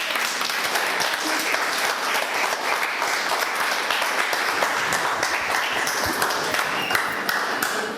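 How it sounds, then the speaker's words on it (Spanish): A church congregation gives sustained, dense applause that fills the whole stretch at a steady loud level, with no voices rising above it. "denle un aplauso a Dios"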